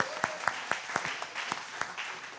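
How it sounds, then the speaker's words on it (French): A church congregation claps in a brisk, regular rhythm, the many hands sounding close and moderately loud, with faint voices mixed in. "On acclame encore Désiré."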